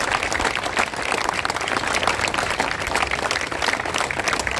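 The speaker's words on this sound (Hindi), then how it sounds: "तो जोरदार तालियों के साथ" Enthusiastic applause from a crowd, a dense, steady clatter of many hands clapping at once, loud and close with no talk.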